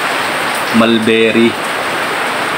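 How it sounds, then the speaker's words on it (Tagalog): Heavy rain pours steadily outside a house, a dense even hiss running throughout, with a voice speaking briefly over it. "Ang lakas ng ulan sa labas"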